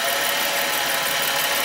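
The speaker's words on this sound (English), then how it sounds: "You can hear the engine start to chuggle" Idling GM car engine with a large EVAP leak, running steadily as vacuum is pulled on the fuel tank, its constant broadband hum starting to turn uneven and chug, close and fairly loud with no talk.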